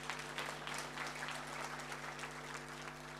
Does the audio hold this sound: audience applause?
yes